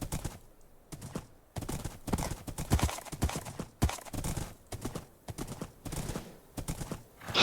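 Hooves clop along steadily in a video game as a horse struggles, a dense, fairly near run of irregular hoofbeats with no pause throughout.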